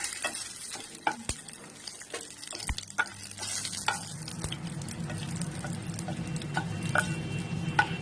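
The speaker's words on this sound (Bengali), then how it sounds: "ফোড়নটা একটু ভাজা করে নিচ্ছি।" A tempering of whole cumin, a bay leaf and broken dry red chillies fries in a little oil, giving a close crackling sizzle punctuated by sharp spoon clicks against the pan.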